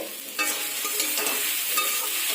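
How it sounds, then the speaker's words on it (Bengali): Egg, green chilli and okra fry in a small amount of oil, giving a steady bright sizzle with crackles and the scrape of stirring throughout, close and continuous with no voices. "দেখুন আমরা অল্প তেলে রান্না করছি"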